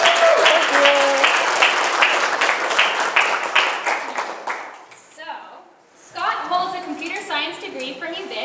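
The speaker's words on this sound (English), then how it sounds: "let's do applause" Brisk clapping from a small audience lasts about five seconds and fades, then a person begins speaking.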